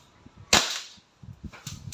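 A WE M4 RIS gas blowback airsoft rifle fires a single sharp test shot, a loud crisp crack with a brief hiss, followed by a fainter click or pop near the end.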